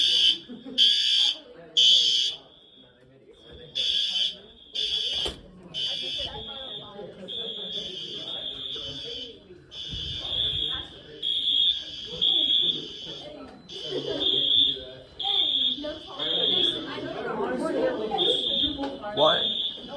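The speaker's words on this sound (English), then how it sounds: "This is a real fire alarm." A real school fire alarm sounds a repeated loud electronic buzz in rapid pulses that becomes nearly continuous, with people talking beneath it indoors.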